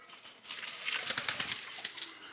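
Pigeons on a pigeon farm give soft cooing and rustling sounds at close range, with faint wing flutters and no talk.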